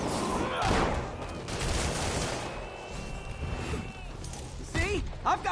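Dense bursts of gunfire in the Spider-Man PS5 video game, a flurry of shots and crashes under shouted character dialogue, with a few sharp louder hits near the end.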